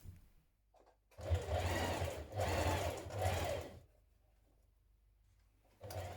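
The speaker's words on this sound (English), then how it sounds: "now we're going to stitch around the edge of the pocket" A sewing machine stitches around the edge of a trouser pocket in three close, steady whirring bursts with short pauses between them, in a quiet room.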